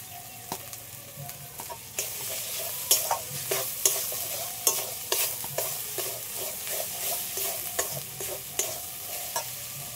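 Katla fish frying with spices and chilli powder, stirred hard in a pan: a sizzling hiss runs throughout while a rhythmic series of sharp spatula scrapes and clacks repeats up close, with no voices.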